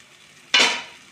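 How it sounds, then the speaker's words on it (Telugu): A single brief scrape of a spoon through korameenu fish and chapa kanda curry in a pan, a quick stirring swish that rises sharply and fades over about half a second, alone without any talk. "ఇట్లా కలితిప్పుకొని ఇట్లా కలిపిక్కున్న తర్వాత"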